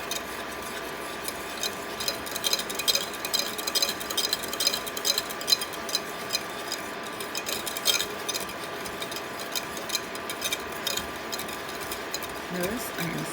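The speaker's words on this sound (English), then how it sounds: "Notice I am stirring constantly." A spoon scrapes and clicks steadily around a pot of thick, sugary pudding simmering on the stove, a quiet continuous stirring rhythm with faint bubbling beneath.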